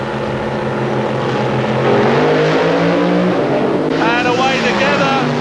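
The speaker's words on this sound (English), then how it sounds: "back to the top alcohol quarterfinals. First race, Steve Reed versus Peter Lantz." Top alcohol drag racing cars at Santa Pod give a loud, sustained engine roar that rises in pitch as they pass, with a voice talking over them.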